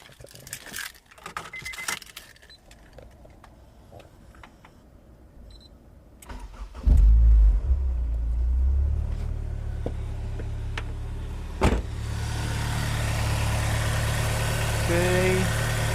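Honda S2000 AP1 engine cranks and fires after several seconds of clicks and rustling, then settles into a steady, loud idle hum close by, with a brief revving bump partway through.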